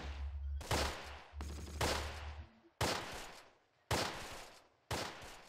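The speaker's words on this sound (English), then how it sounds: "Put up the MG here. Fire down upon those guys." Machine gun fire in the Close Combat: The Longest Day war game, several loud close bursts of rapid shots separated by short pauses, each burst ending in a decaying echo.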